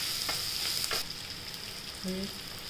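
Fenugreek seeds frying in hot oil in a pan while making methi dal, giving a steady close sizzle with a few brief stirring scrapes; no one talks.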